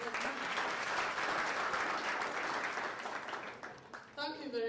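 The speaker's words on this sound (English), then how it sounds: "Can we clap for them at least?" A quiet, distant crowd claps steadily for several seconds for a few young people at the front of an event, the applause fading near the end as a voice begins to speak.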